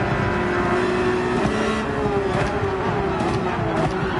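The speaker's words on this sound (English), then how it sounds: "Oh no, Chip, we over revved" Race car engine in Gran Turismo 7 at the Red Bull Ring, held at a steady high-pitched drone that climbs slightly as it over-revs, loud and continuous throughout with no talk.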